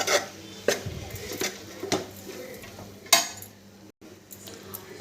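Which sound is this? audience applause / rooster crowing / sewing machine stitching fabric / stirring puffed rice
stirring puffed rice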